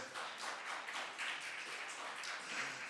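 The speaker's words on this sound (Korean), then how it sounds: "그 불쌍한 우리 후배를 향해서 박수 한번 주세요" Distant, faint applause from a congregation at a university worship service, cheering on a junior about to enter military service; a steady wash of many hands with no voices on top.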